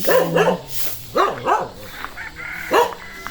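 A dog barks several times in short bursts, fairly close, with quieter yips between and some faint background noise.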